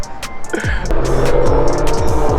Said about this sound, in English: I don't know what kind of truck that